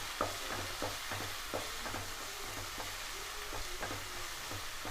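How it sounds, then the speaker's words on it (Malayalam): A pepper powder masala is sautéed in a pan: a soft, even sizzle with regular scraping stirs at a steady rhythm, heard alone at low volume. "നന്നായി വഴറ്റിയെടുക്കാം"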